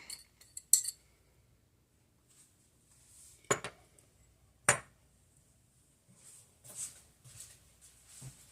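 A utensil scrapes and clinks against a dish while bean dip is mixed and coaxed out, giving a few sharp metallic taps and soft scraping between quiet gaps.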